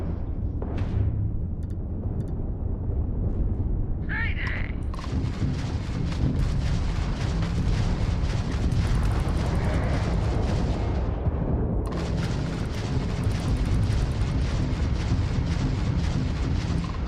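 Spaceship lasers fire during a space battle in the game Starfield, a dense roaring barrage of booming blasts and sharp bursts over a constant rumbling engine drone.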